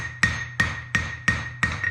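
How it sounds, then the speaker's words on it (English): Five sharp metallic strikes of a rounded hammer's edge on hot steel forged from a horseshoe, evenly spaced about a third of a second apart, each ringing briefly with a bright tone. "using the edge of my rounded hammer as an angle to put in just"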